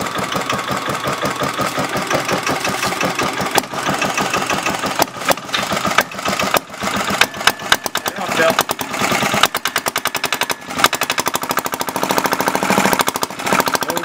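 An antique Yanmar diesel engine runs close and loud, a fast, steady, hammering knock like a jackhammer, with brief uneven stumbles midway before it settles into an even beat; a voice is heard faintly under it.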